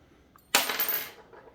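A small metal part of a Leatherman Charge multitool, one half of its two-piece scissors, drops onto a hard surface with a single bright clatter that rings briefly and fades, close up, with no talk.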